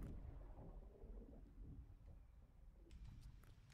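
Rain and rolling thunder in the LEGO Fortnite video game, a steady low rumble under a constant hiss of rainfall, with a few sharper drips near the end.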